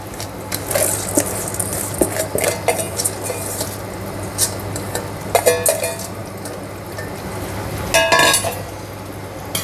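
Soaked rice tipped into boiling salted water in a pot for a meal maker biryani, then stirred, giving scattered scrapes, clinks of a utensil against the pot and wet squishing over a steady low hum.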